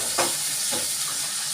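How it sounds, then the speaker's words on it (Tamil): Sardines fry on a hot dosa griddle, giving a dense, continuous close-up sizzle with a couple of soft stirring touches. "தோசைக்கல்லில்"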